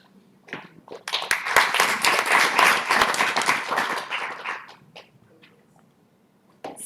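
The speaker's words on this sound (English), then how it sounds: "give another hand of applause for all of the speakers" Audience applause for the speakers at a Pan African women's panel: a burst of clapping that swells quickly, holds for about four seconds, then tapers off into a quiet room.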